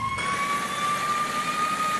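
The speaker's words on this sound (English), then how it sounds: "I really gotta learn that siren." Fire truck siren in the video game EmergeNYC, a steady sustained electronic tone rising slightly near the start over a low engine hum, brief and without talk.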